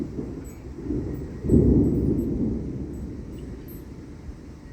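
Thunder from a severe thunderstorm in southeastern Pennsylvania rolls in as a low, heavy rumble that swells suddenly partway through and slowly fades, with no talking.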